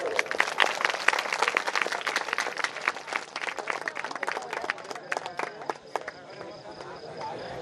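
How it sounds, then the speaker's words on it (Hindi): A large seated audience at a public gathering bursts into loud, dense clapping in welcome, a sustained crackle of many hands that slowly thins and fades toward the end. "जोरदार ताली से स्वागत।"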